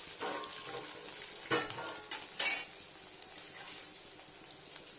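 Homemade urad dal bori dumplings, broken into pieces, fry in a pan with a soft continuous sizzle, punctuated by several sharp spatula scrapes and stirring clatters against the metal, close and moderately loud.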